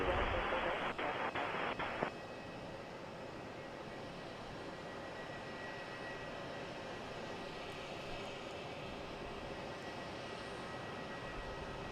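A Spirit Airlines jet taxis around a corner at Boston's Logan Airport, its steady engine roar filling the scene from moderate distance after a brief louder burst at the start.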